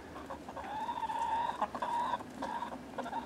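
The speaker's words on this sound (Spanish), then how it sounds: "¿Qué irá a pasar con las gallinas ahora que nos vamos a la otra casa?" Farmyard chickens clucking nearby in repeated bursts, with several overlapping calls and brief pauses between them.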